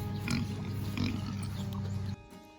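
Pigs grunt in a farm pen in a run of close, fairly loud snorts and grunts. A short pause falls between them and the sounds stop abruptly near the end.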